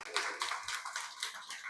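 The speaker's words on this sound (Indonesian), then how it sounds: "Tepuk tangan untuk mereka." A small group claps briefly for participants at a programming camp discussion forum, a short burst of light, close hand claps with no talk over it.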